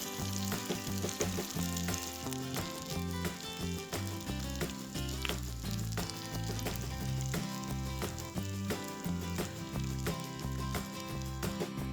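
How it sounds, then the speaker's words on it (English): Steady, loud sizzling and crackling of hot melted butter poured over Iskender kebab, continuous and close, with no voices. "you then want to pour on some hot melted butter"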